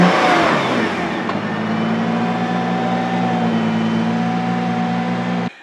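A Nissan GT-R Nismo engine fires up with a sharp burst, then settles into a loud, steady idle with a low, even drone and faint mechanical chatter running throughout, close up and with no voices.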